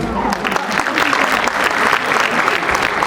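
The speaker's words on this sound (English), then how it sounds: "That clap is for you." Audience applause at a school's 30th Recognition Day ceremony, a steady dense wash of clapping from a large crowd lasting the whole stretch, fairly loud and continuous with no talk over it.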